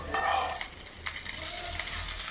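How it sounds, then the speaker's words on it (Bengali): Small breads toast in ghee in a pan, producing a steady, fairly loud hissing sizzle throughout. "একটা করে ব্রেড সেঁকতে সেঁকতে অনেক টাইম লেগে যাচ্ছে, অনেকগুলো ব্রেড সেঁকতেছি।"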